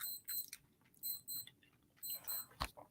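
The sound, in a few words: timer alarm beeping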